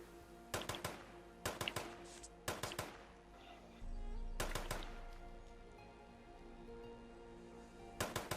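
Gunshots fired at targets in the video game Fallout 76: sharp reports arriving in close pairs, about five doublets spread across the stretch, with a low rumble between them.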